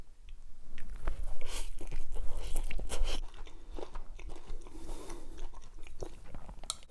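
Close, crisp crunching and chewing of kimchi fried noodles, with irregular bites and mouth sounds continuing throughout and no speech.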